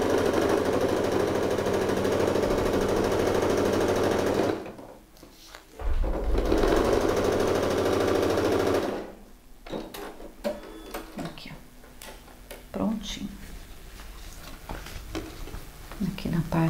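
A sewing machine topstitching a zipper runs in two long steady bursts of rapid mechanical stitching, with short pauses between them, then gives way to fabric handling and a person talking.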